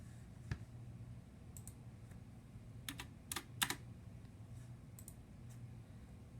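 Someone taps keys on a calculator keypad with scattered, faint clicks. A few quick clusters of sharper presses come through over a quiet room hum.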